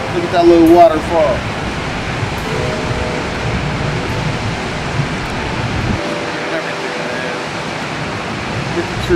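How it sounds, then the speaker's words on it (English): Steady broadband rush of a small waterfall among trees, continuous and fairly close, with a brief voice near the start. "Look at that little waterfall."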